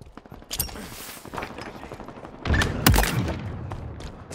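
Halo Infinite multiplayer gunfight: rapid, close bursts of automatic gunfire crackle alongside sharp single shots, with a heavier booming blast near the end and no talking.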